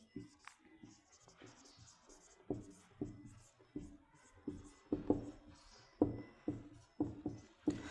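Chalk or marker strokes on a board during a mathematics lecture sound as a steady series of short, close scratching taps and squeaks, repeating in quick rhythmic bursts with no talking over them.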